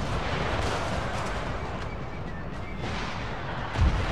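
Cannon fire in the video game Empire: Total War, dense rumbling artillery booms blending into a continuous battle roar, with a sharper blast near the end.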